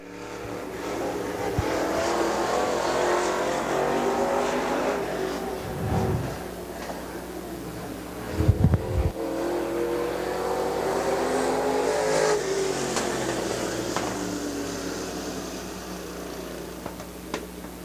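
A crate late model race car runs a qualifying lap at Dixie Speedway, its engine roaring steadily as it circles the dirt oval, rising and falling with throttle and distance, alone without talk.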